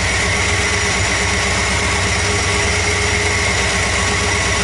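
Freshly rebuilt engine in a Cammaster build runs at a steady idle during its heat cycle, paint burning off the headers, a loud, even, close rumble with a constant pulsing throb and no voices.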